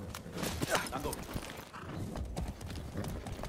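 Horse hooves clip-clopping in the video game Far Cry 6, a steady walking rhythm of repeated hoof strikes, moderately close, with game ambience and faint voices beneath.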